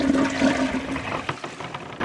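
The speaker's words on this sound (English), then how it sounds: "We have flushing" A high-efficiency toilet tank flushes in one loud, rushing burst of water that runs for about two seconds and then drains away, heard close up with no one talking.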